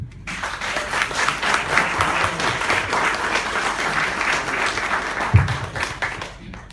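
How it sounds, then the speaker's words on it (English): A studio audience gives a warm round of applause to a guest on a tech talk show, with a full, continuous clapping that fades near the end. "a big round of applause to our guest, Chif Umejei"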